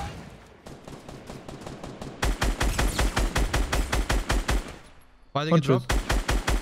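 Rapid automatic gunfire in Fortnite gameplay: fast bursts of close, loud shots in two long strings separated by a short pause, with players talking over them.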